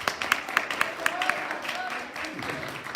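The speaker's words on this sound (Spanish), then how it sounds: "Denle el aplauso al Señor" Rhythmic clapping from a church congregation during a Spanish-language sermon, even beats at a steady tempo mixed with voices.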